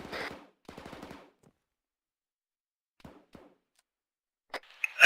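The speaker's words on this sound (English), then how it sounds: "I'll fire on him now" Gunfire in the military shooter Arma 3 during an infantry squad drill: a short rattling burst opens, a second longer burst follows after a brief gap, then two faint distant pops and a sharp loud crack with ringing at the end.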